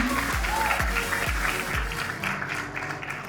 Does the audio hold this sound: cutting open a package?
no